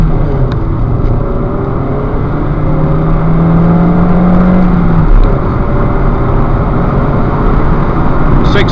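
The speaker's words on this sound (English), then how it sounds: "Let's start with a 0 to 60 test, and the conditions are wet." Ford Fiesta 1.4 from 2006 accelerating hard from 0 to 60 on a wet road, a steady engine drone with rising tone and tyre hiss from the wet surface running throughout.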